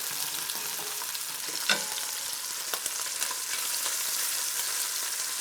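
Sausage fries in an oiled pan with a constant, close sizzle, punctuated by a few sharp knocks and scrapes of a utensil stirring it, with no talking.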